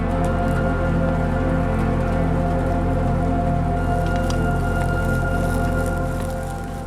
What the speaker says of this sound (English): let's see if this rain dies down